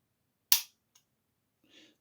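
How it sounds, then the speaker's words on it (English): A Steyr LP5 Match .177 PCP target air pistol is cocked with one sharp, loud metallic snap, followed by a faint tick and a short quieter mechanical rasp, all close up in otherwise silent surroundings. "That's cocked the pistol."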